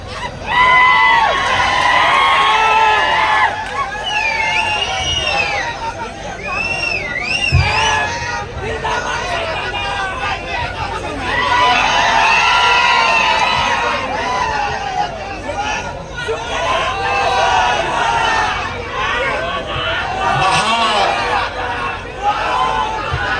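Jubilant crowd cheering and whooping during an election campaign rally procession, a loud sustained roar of many voices with shouts rising in swells throughout.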